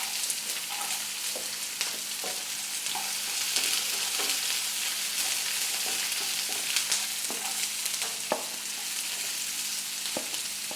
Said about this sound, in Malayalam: ഇനി നമ്മൾ ഈ ഉള്ളിയും ഇഞ്ചി ഇതെല്ലാം കൂടെ വഴറ്റാൻ പോവാണേ.